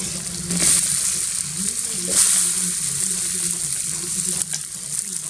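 Green chilies and tomato fry in a hot pan while being stirred, a steady close sizzle with occasional scraping stir sounds and no talking.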